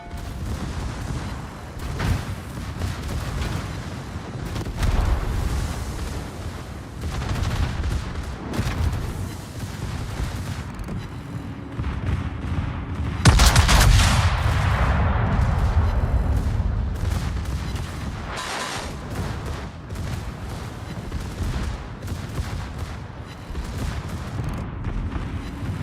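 Naval gunfire rolls through a World of Warships battle, a steady barrage of booms layered under continuous engine and sea rumble, with one especially heavy salvo roughly midway and repeated blasts scattered throughout.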